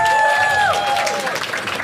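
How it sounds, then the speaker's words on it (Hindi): A stand-up comedy crowd applauds, and the clapping fills the whole moment with a brief cheer. A tonal whistle fades out at the start. "एक बार हरीश के लिए ताली बजाओ सब लोग।"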